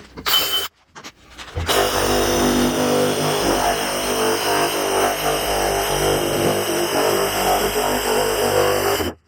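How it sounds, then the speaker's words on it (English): A jigsaw cuts the top off a sealed barrel: a few short bursts of the saw, then a long, loud, steady buzzing motor whine that stops abruptly at the end. "I drilled a hole in so that I could get a jigsaw blade in there, and then I just cut around the top"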